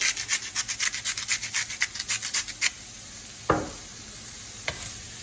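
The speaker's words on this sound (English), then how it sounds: "once your mushies have started to fry off a bit" Mushrooms frying in a pan, with a run of quick rhythmic scraping stirs up close followed by a soft sizzle and a couple of clunks, no voices.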